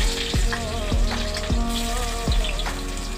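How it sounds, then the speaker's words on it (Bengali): Onions frying in hot oil with five-spice in a pan, a continuous sizzle broken by several sharp clattering strokes as the mixture is stirred, close and fairly loud with no talking. "এবার এটাকে ভালো করে ভেজে নিব।"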